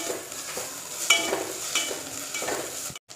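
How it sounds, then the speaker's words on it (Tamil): Crushed ginger and garlic sautéing with onions in a pan for a coconut milk chicken gravy: steady close sizzle and frying hiss with a few soft stirring scrapes, cutting off briefly at the end. "இப்போ இஞ்சி பூண்டு சேர்த்துக்கலாம்."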